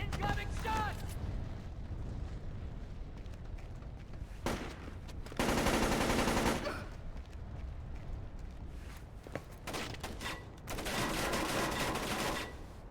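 Bursts of automatic gunfire in the stealth shooter Splinter Cell: Chaos Theory, with two loud sustained volleys and scattered sharper shots between them over a noisy in-game background.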